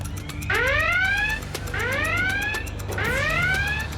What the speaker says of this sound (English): when the high water level alarm goes off